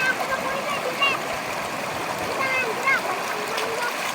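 Steady rushing and splashing of a flowing freshwater stream, close by and continuous, with faint bird chirps above it, in Cajidiocan, Romblon, Philippines.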